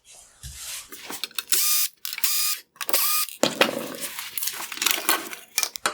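Phillips head screws being backed out of the reflector inside a 2016-2018 Lexus ES350 LED headlight, giving repeated bursts of loud, whirring driver noise with short gaps and ratcheting clicks in between, close up.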